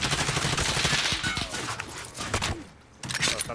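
Gunfire in a Warzone trios match on PC: rapid, overlapping bursts of automatic fire. It comes in dense volleys, eases off briefly near the end, then picks up again.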